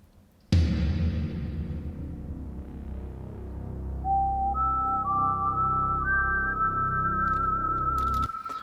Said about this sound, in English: And then we want the whistle.